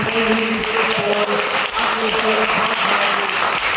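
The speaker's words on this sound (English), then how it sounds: "Ladies and gentlemen, please give a round of applause." Audience at a Tullamore Rhymers Castlepalooza show breaking into steady, sustained applause, a dense wash of clapping from a crowd, fairly loud and even throughout.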